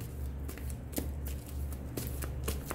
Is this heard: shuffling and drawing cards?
yes